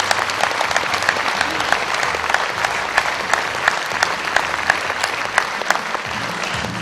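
Theatre audience applauding after an amateur play, dense sustained clapping from many hands, loud and even throughout with a faint murmur of voices in the crowd.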